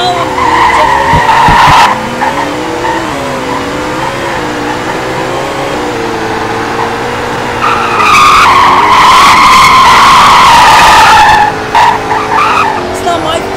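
Racing video game car skidding and squealing with engine whine, loud bursts near the start and again around the middle, with a person talking over it.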